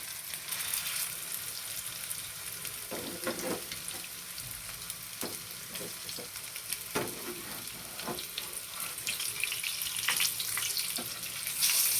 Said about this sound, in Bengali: সাইডগুলো একটু ভাজা ভাজা হোক।